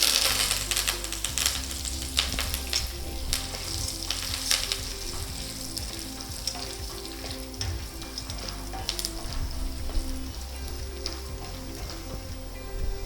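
Peanuts roasting in a pan for masala pori, giving a steady close sizzle with scattered crackles and stirring scrapes, continuous and without talk.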